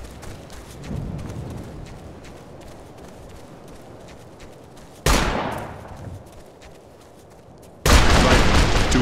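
Squad gunfire in the video game Operation Flashpoint: Dragon Rising: a sharp burst of shots hits at once, then trails off, and a second loud, sustained volley follows near the end over low background rumble.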